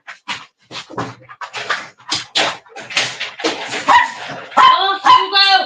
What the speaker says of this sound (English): Oh, Hugo, fuck off with your incessant barking.